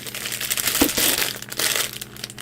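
A plastic bag crinkles and rustles as it is handled and opened while unboxing a wrestling merchandise crate, close and irregular with sharper crackles mid-way.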